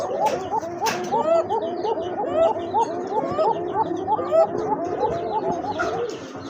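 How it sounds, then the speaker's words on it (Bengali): A Coca pigeon coos close by in a steady run of repeated rolling calls, loud and clear with only faint background noise. "এই যে দেখেন মাশাআল্লাহ খুবই সুন্দর ডাকে এটা"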